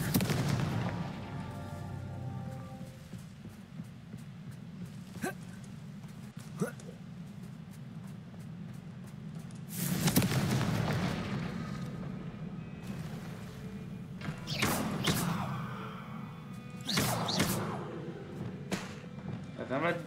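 Confringo blasting spell explosions in the Hogwarts Legacy video game, a few sharp booming blasts around the middle and later part, heard over a steady game soundtrack bed with a voice talking.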